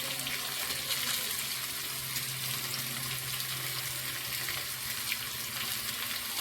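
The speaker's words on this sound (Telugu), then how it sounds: "కొద్దిగా మనకు కీరా ముక్కలు మగ్గే వరకు వేయించుకుందాం" Cucumber pieces frying with turmeric and salt in a pan, a soft, even, continuous sizzle heard close up with no talking.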